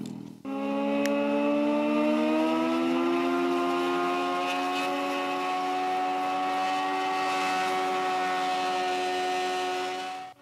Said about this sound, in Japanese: これはホバーバイク。